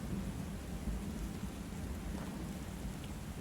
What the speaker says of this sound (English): Thunder growling, waves pounding